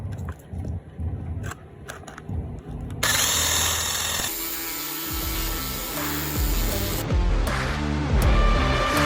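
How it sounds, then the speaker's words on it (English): Tapping and scraping at first, then a power drill whines loudly and continuously, grinding into material with its pitch shifting as it bogs down. "the drill bit is taking way too long"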